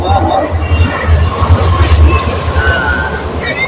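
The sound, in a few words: express train passing by on railway track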